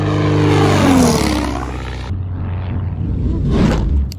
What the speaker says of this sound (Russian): Посмотрите, какое чудо, это Пайпер.